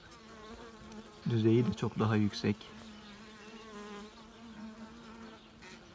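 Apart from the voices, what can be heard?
native honey bees buzzing at the hive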